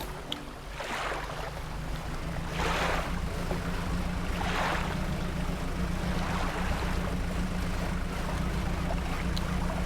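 A fishing boat with upgraded engines cruises through open water in Dredge, giving a constant low engine drone under waves that swell and wash past at regular intervals, with no talking.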